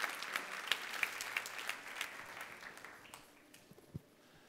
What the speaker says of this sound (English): Let's give Jed a big, big round of applause as he comes.